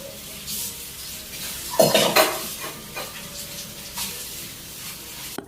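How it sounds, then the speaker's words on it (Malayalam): Dishes, pots and pans being washed in a home kitchen at night: running water and scattered clinks and scrapes of metal and crockery, with a louder clatter near the start, close by. "കുറച്ച് പാത്രങ്ങൾ കഴുകാനുണ്ടായിരുന്നു"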